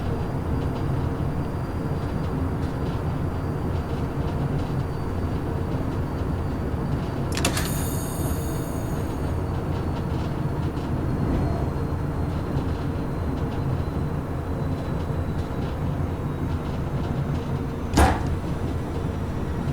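DB BR111 electric locomotive in Train Sim World, a steady low rumbling drone with faint rhythmic clatter, a sharp high burst of mechanical noise midway and a brief click near the end.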